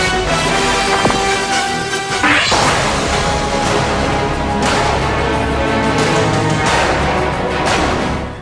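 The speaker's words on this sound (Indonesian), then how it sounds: "pria-pria bertopeng tersebut melarikan diri setelah menghancurkan kaca mobil milik Dinesh" Car window glass smashed by masked robbers fleeing a foiled robbery, a few loud crashing impacts spaced through a continuous noisy scene with no voices.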